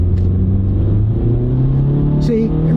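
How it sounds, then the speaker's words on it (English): Honda with a CVT transmission accelerating, its engine droning loud and close as revs climb high and hold, with a brief voice-like sound partway through. "See, it revs real high."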